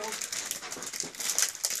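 A plastic bag crinkles and rustles in quick, irregular bursts as a gift is unpacked, close to the microphone, with a voice talking at the same time.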